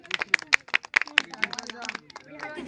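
A crowd at a Saraswati Puja prize-giving after a children's biscuit race gives rhythmic clapping for a winner. The close, evenly spaced claps thin out toward the end, with a voice talking over them.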